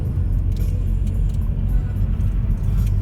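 A car drives on wet roads in foggy, freezing winter weather, a steady low engine and road rumble with tyre noise filling the cabin throughout, fairly loud and continuous.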